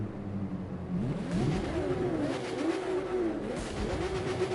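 A Porsche sports car engine in the video game The Crew 2 revs up and down repeatedly, its pitch rising and falling in sweeping waves over a steady hum.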